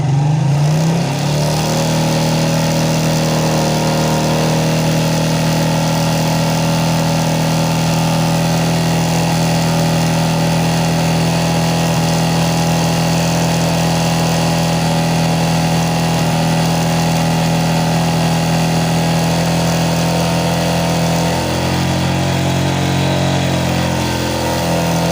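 A motorcycle engine revs and holds a loud, close, steady drone for a long stretch, with shifts in pitch near the start and again toward the end.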